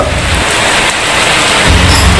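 Heavy rain pours down in a loud, dense, continuous hiss, with no talking.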